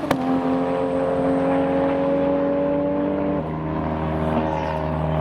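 A 600bhp Nissan Skyline R33 GTR engine revs on track at a sports car event, giving a loud, sustained drone that holds steady and then drops in pitch partway through, with other engine noise around it.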